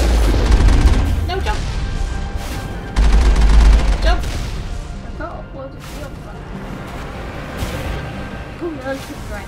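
Heavy turret gunfire in the Mass Effect video game, with loud booming bursts and rapid fusillade shots rolling over a noisy battle, under a voice talking.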